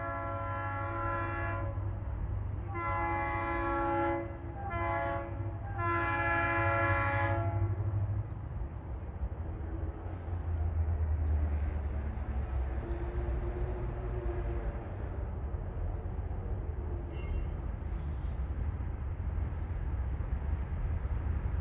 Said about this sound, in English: You should hear the horn though